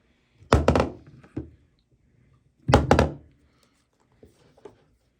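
Two heavy hammer blows thud against an MDF kitchen cabinet door, each followed by a short rattle, with a few light taps afterward.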